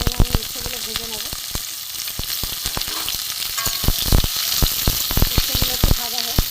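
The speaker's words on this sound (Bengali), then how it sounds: "এখানে আমি উচ্ছেগুলো ভেজে নেব।" Bitter gourd pieces frying in mustard oil in a kadai, a continuous bright sizzle with frequent crisp crackling pops and stirring clicks, close and steady throughout.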